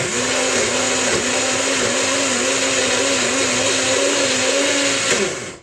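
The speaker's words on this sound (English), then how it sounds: "So then you're going to go ahead and throw it on the blender. Give it a spin." A blender runs continuously at high speed, a loud steady whir with a slight rhythmic wobble, then cuts off at the end.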